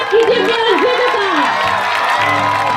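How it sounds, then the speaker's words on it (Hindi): Audience at a cultural programme for a police officers' training batch cheers and applauds to welcome a performer, a loud dense crowd roar with whoops and shouts throughout. "अपनी बेहतरीन तालियों के साथ स्वागत कीजिए"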